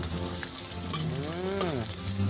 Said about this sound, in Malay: kita letakkan sedikit minyak untuk menggoreng ni